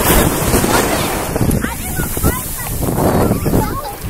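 Ocean waves wash around a swimmer in Hawaiian water, heard as a steady, loud rushing surf mixed with heavy wind buffeting on the microphone throughout.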